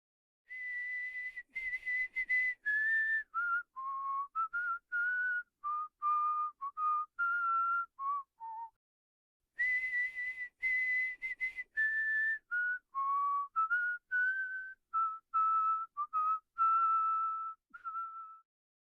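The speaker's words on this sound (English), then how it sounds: "I will instead therefore whistle part of the traditional English melody Greensleeves" Solo whistling of part of the traditional English melody Greensleeves, a clear, close tune of sustained and stepping notes in two phrases with a short pause between them, no talking.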